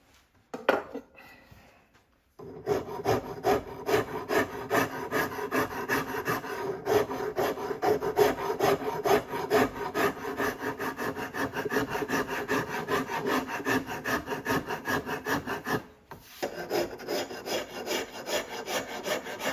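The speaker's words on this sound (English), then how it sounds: "I still have to do some sanding and final shaping once I'm done with the rasp." A hand rasp working a wooden Ruger 44 Carbine gunstock, with continuous rhythmic rasping strokes close up, briefly pausing early and again near the end.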